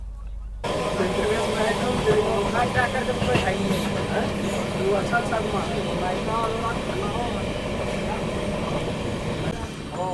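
Sampoorna Kranti Express rumbling and rattling steadily along the track as it runs into Ara Junction station, loud continuous wheel and carriage noise throughout.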